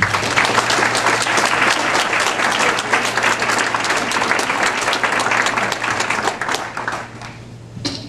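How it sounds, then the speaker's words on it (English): An audience at a grassroots education organizing forum gives a warm round of applause: steady, full clapping from many hands for several seconds that tapers off toward the end. "please give a warm round of applause to Michele Norman"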